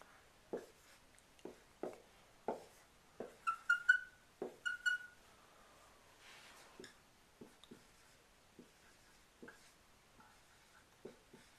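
Marker or chalk taps and strokes on a board as line notation is written, quiet sharp ticks and short squeaks in an irregular run, heard alone without talk.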